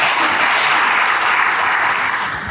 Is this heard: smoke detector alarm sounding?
no